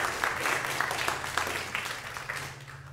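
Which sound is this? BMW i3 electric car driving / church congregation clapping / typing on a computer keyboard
church congregation clapping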